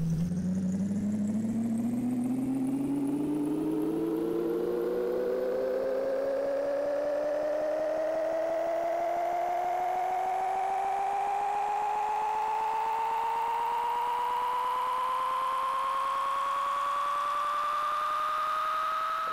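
A truck engine in a video game accelerates steadily, its drone climbing smoothly in pitch for a long stretch with no talking.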